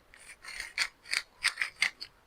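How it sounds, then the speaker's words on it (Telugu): A 3×3 jelly Rubik's cube is twisted in quick shuffling turns, giving about six soft, squishy clicking bursts in an uneven rhythm, close and fairly quiet with no talking. "ఫస్ట్ దీన్ని షఫుల్ చేయాలి."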